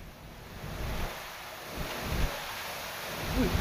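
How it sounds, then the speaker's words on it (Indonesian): Strong wind and high sea waves lash the port of Merak in Cilegon, Banten, with a steady roar of surf and gusting wind buffeting the microphone, rising and falling in low rumbling swells, no voices. "Kencangnya hembusan angin serta tingginya gelombang laut membuat kapal sulit bersandar di dermaga."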